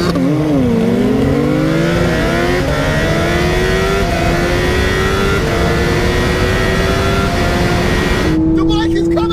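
Tuned street cars roar off the line in a drag race, engines droning loud and steady with a rising pitch as they pull away, under spectators shouting.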